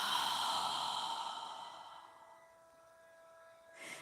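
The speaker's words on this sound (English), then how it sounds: "inhale through your nose and exhale through your mouth" Slow breathing during a yoga session, a long soft breath that rushes out and fades away, followed by a brief quiet intake near the end.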